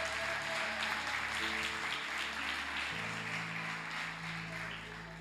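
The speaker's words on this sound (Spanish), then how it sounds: "Un fuerte aplauso para Rafa." A church congregation gives Rafa strong applause, a dense wash of clapping over sustained organ-like chords that fades slightly toward the end.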